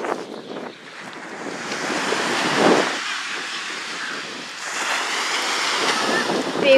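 Ocean waves wash and surge around a boat, swelling and receding, mixed with gusty wind noise and no clear talking.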